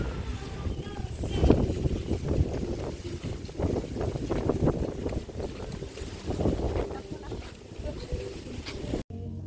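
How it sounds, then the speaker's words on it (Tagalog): Strong wind buffets the microphone in rumbling gusts throughout, with a person talking faintly beneath the noise. "Medyo mahangin"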